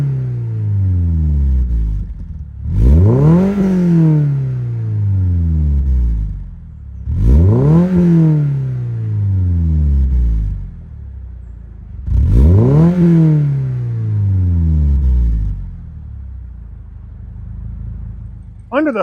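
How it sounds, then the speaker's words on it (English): A 2026 Toyota GR86 with an upgraded Toyota Performance exhaust and Subaru engine revs hard three times, each rising roar with a deep rumbling exhaust note, settling back to a low idle between bursts. "that upgraded Toyota Performance exhaust with the black tips"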